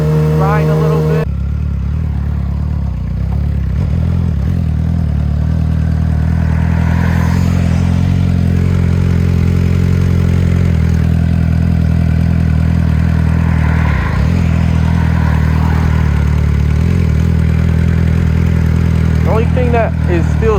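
A motorcycle engine drones steadily while riding in traffic, a close mid-pitched hum with small shifts in revs and wind noise, under intermittent talking from the rider.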